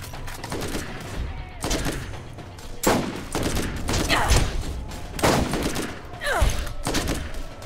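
Gunfire in the Borderlands video game: repeated bursts of rapid shots and loud blasts, close and punchy, with brief pauses between volleys.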